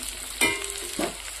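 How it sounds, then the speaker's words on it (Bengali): Paneer fries in a pan in a home kitchen, giving two brief, close bursts of sizzle over a faint frying hiss. "পনিরটাও লাল লাল করে আমি ভেজে নিয়েছি"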